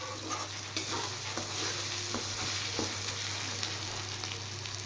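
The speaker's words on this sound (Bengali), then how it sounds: "আমি গোটা গরম মশলা ফোড়নে দিয়েছি" Whole garam masala spices frying in hot oil, a steady close sizzle and crackle with occasional soft stirring scrapes, alone over a low hum, with no talking.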